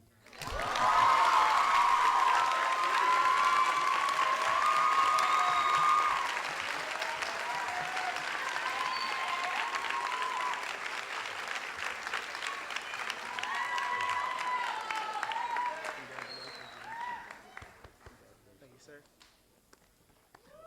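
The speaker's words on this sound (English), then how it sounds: "Let's give them a round of applause." A commencement ceremony audience bursts into loud, sustained applause that holds steady for over fifteen seconds before tapering off, with cheers and voices mixed into the clapping.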